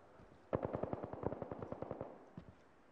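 Rapid automatic gunfire in the video game Apex Legends, one burst of about a dozen evenly spaced shots with a slight echo and a lone shot after, heard at a moderate distance.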